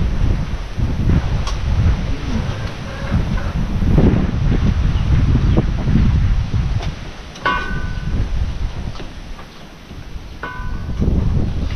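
Strong outdoor wind buffets the microphone in a loud, continuous low rumble with gusty swells and rustling, lasting throughout without pause.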